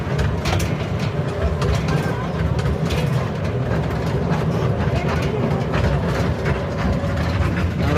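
Train on the Lumbini to Delhi route rumbles steadily with heavy low engine drone and rattling, continuous and close throughout.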